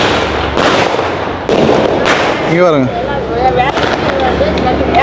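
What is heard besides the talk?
firecrackers bursting at a ground in Chennai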